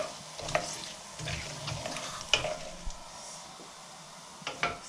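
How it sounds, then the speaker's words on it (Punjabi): Oil sizzles steadily in a pan, with stirring and a few scrapes, while eggplant curry is cooked at home, just before green chilies, onion and ginger go in. No one speaks, and the frying stays close and moderately loud. "ਸਿਜ਼ਲ ਹੋ ਰਿਹਾ ਹੈ।"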